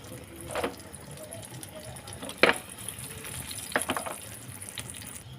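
Egg chicken mughlai paratha fries in hot oil, a faint steady sizzle broken by a few sharper spatters and bubbling bursts.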